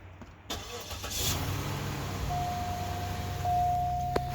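A 2005 Cadillac DeVille V8 cranks and catches, then settles into a steady, close idle with a low rumble, heard alone without voices.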